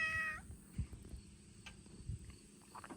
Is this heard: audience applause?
no